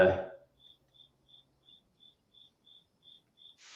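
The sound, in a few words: crickets chirping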